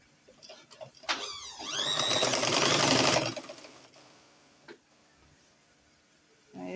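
A sewing machine top stitching the lining of a princess-cut dress with a plunging neckline, a short close burst of running that rises and stops, followed by quieter handling.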